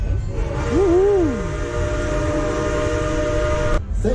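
A Polar Express excursion train rolls along with a steady mechanical rumble and sustained tonal hum, while a bright rising-and-falling whistle sounds briefly early on and a sharp clank near the end.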